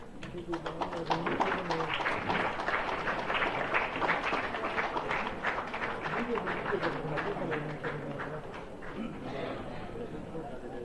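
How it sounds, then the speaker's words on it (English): Steady applause from an audience at a Women's Day gathering, greeting members of women's self-help groups; dense, continuous clapping runs throughout with voices over it, easing slightly near the end. "Can we give them another round of applause as they make their way?"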